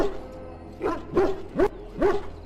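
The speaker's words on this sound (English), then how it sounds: "Now I can treat the dog properly, poor fella." A dog in Dragon Age: Origins gives four short whining yelps at a steady pace, close and clear, over a low background hum, with no talking.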